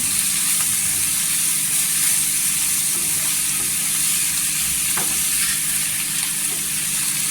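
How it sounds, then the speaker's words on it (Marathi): Washed dried fish being fried in oil in a pan: a steady, dense sizzle and hiss, close and continuous, with a faint scrape or stir now and then and no talking. "इथे तेलावर परतून घ्यायची"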